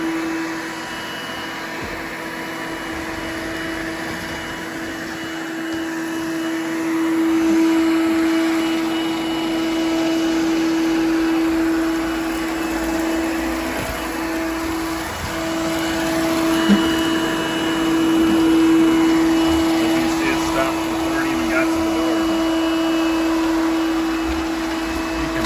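A Coral One 2-in-1 random-navigation robot vacuum runs continuously, a steady whirring motor hum with a strong tonal whine, rising and falling slightly as it moves about.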